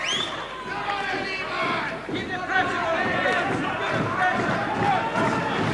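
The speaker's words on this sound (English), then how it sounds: "And the crowd are rallying." A boxing crowd at Craig Docherty against Abdul Malik Jabir roars and rallies behind the Scottish fighter, a loud sustained cheer and hubbub rising as the bout goes on, while a commentator talks over it.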